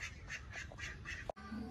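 Ducklings on a farm give repeated soft, rhythmic quacks over steady background noise, several short calls in a row. The sound is fairly faint and no one speaks.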